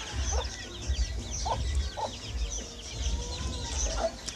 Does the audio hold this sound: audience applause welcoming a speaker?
no